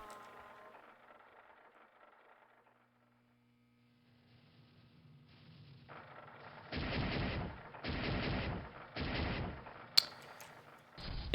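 Submachine gun fire from the video game X-Men: The Ravages of Apocalypse comes in several loud bursts after a quiet stretch of low hum, each burst lasting about a second with short gaps between.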